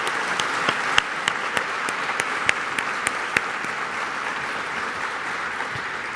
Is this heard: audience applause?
yes